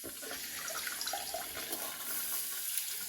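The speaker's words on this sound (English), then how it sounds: "we're going to turn this on to the rear end wash." A stainless steel bidet attachment on a toilet spraying water on its rear wash setting, a faint, steady hiss of running water with small splashes and no talking.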